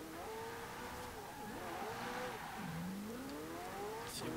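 A Lego McLaren Senna in Forza Horizon 4 revs and shifts on a speedway track, its engine tone sweeping up and dropping several times, quiet and fairly close, with a brief tire squeal near the end.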